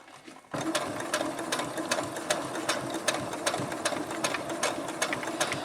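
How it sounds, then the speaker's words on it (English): A sewing machine, slowed down, stitches along the edge of a purse lining, starting abruptly and running in a steady rapid mechanical chatter, close and clear with no talk. "I usually slow my sewing machine down a little bit so that I have a little more control"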